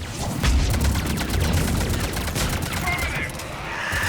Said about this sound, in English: Missiles away. Firing another salvo.